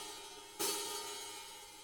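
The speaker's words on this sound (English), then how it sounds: "we add this cool open hi-hat sound" A single open hi-hat struck once, a bright splashy metallic hiss that rings out and slowly decays.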